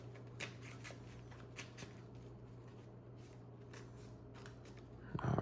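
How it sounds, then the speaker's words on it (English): Soft, rapid riffling and brushing of playing cards being shuffled close by, with a steady low hum in the background and a louder rustle at the end. "Let's go ahead and shuffle up."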